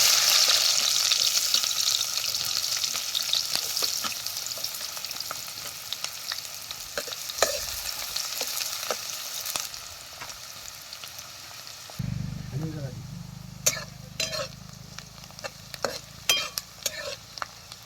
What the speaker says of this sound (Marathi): आता हे बारीक चिरलेला कांदा घालायचा तेलात.